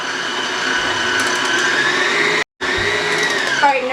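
Stand or hand mixer creaming sugar and butter together for shortbread tart dough, a loud steady motorized whir with a brief cut-out midway before resuming.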